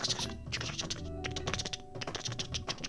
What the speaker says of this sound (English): your boy had to do some typing